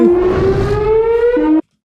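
A beach shark attack warning siren wails loud and close in a single steady rising tone for about a second and a half, then cuts off abruptly into silence.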